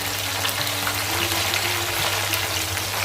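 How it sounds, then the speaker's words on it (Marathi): Steady sizzling and crackling of chicken pieces frying in a pan, a constant close hiss with a low hum underneath and no talking. "आता आपल्या दोन्ही साईडने व्यवस्थित फ्राय करून झाले चिकन।"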